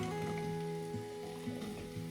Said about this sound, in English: Heat the butter and oil in a large pan.